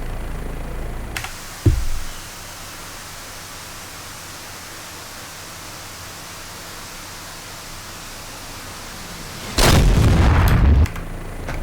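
A Hellfire AGM-114K missile launches from an OH-58D Kiowa helicopter in a flight simulator game, a loud roaring burst of about a second standing out over a steady hiss, after an earlier brief low thump.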